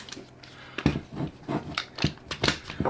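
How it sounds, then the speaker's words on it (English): A Beech Lane locking vault lid being closed, a quick series of crisp mechanical clicks and clacks close to the microphone. "drop some keys in there, close her up, boom."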